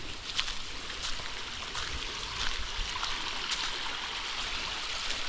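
A wilderness creek flows with a steady, even rush of water and faint trickling ticks, heard close and continuous with no voices.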